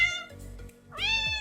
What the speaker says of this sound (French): T'as fait rentrer un chat?